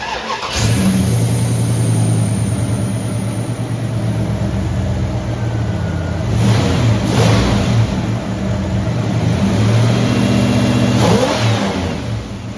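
Turbocharged Dodge Diplomat engine running on its first test fire after an intake manifold swap, a loud close rumbling idle with several rising revs swelling and falling over the run, no talking.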